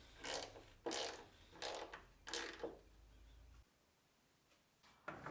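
A table saw fence slides back and forth along its rail in a quiet workshop, making four short scraping, ratcheting strokes in a row, then a pause and one more brief slide at the end.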